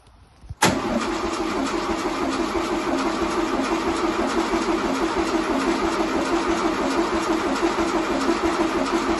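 A rebuilt Volkswagen 1300 air-cooled engine cranks briefly and catches on its first start, then settles into a loud, steady, close idle with an even rhythmic chug and no talking.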